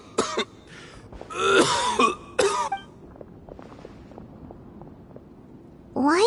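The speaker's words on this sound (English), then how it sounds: "Why is he coughing?" An elderly leader character coughs in Genshin Impact: a series of harsh, raspy coughs and throat-clearing bursts, close and loud, separated by short quiet gaps, with a final cough starting at the end.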